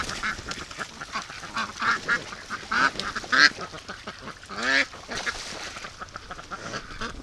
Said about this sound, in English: Something about ducks in the water.